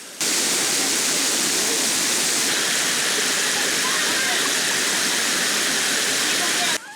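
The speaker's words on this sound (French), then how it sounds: "mais aussi de cette chute d'eau" A waterfall at Mont Niangbo roars with a dense, loud and continuous rushing hiss, close and steady for the whole stretch.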